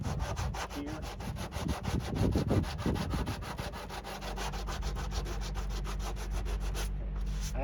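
Close-up sanding of a foam and fiberglass C8 Corvette body panel, cutting through an orange layer: rapid, regular back-and-forth rasping strokes repeat steadily, with no talking.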